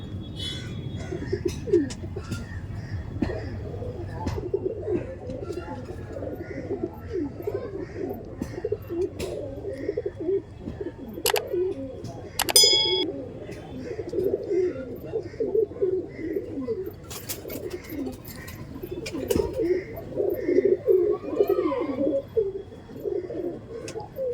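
Teddy Kamagar pigeons, a short-sized breed, coo steadily in a low, continuous murmur with a few sharper chirps and clatters, while people talk intermittently nearby.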